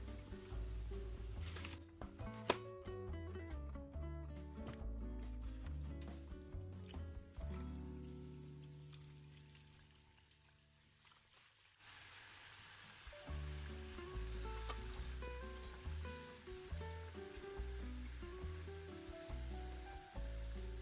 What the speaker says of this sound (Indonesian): Ini yang tadi udah di oven setengah matang, sekarang kita matangin dengan digoreng ya